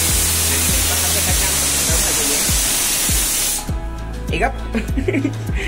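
A pressure cooker holding rice releases a loud, steady jet of steam hiss that cuts off abruptly, while a person talks over and after it.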